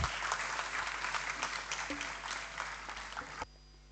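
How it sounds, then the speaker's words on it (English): A seated audience at a campus education event claps steadily for a student team, the applause fairly faint over a low electrical hum and stopping abruptly near the end. "Please give a huge round of applause for their remarkable achievement."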